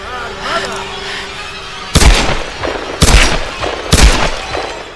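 Three loud, sharp gunshots go off in Tomb Raider: Definitive Edition, spaced about a second apart with short echoing tails, following a quieter stretch of game ambience.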